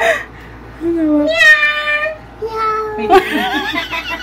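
A person imitates a cat, giving two drawn-out meows in a high voice, with a little giggling between them, at a two-month-old baby's home photoshoot.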